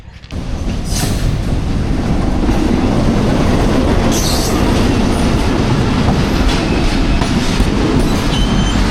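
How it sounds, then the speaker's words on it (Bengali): A local train rolls into Alamdanga railway station close by, a loud continuous rumble with rhythmic clattering of wheels on track and occasional metallic squeal, no voices. "আলমডাঙ্গা রেল স্টেশনে একটি রেল কিন্তু প্রবেশ করতেছে"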